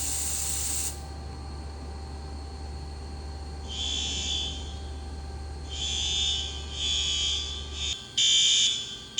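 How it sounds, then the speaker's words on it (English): A DMP fire alarm system set off by spraying canned test smoke into a heat/smoke detector: a steady alarm tone runs through most of the clip, then loud, pulsing alarm bursts sound from close by. "Take your can of smoke and spray it until the light turns red or a horn strobe goes off."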